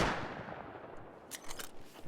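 A single faint bolt-action rifle shot in Rust fires at the start and fades into a long rumbling tail, with a few light clicks after it, all quiet and distant.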